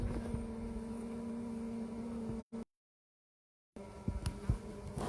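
Honey bees humming at a hive holding a swarm colony with a newly laying queen, a steady close drone broken by a brief total dropout before the buzzing returns with some handling knocks.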